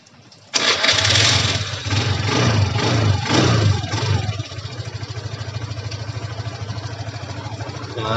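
Honda Beat scooter with a pulley (CVT) rattle fault, starting abruptly and then settling into a steady, close, loud idle with a rapid even putter, with no talk.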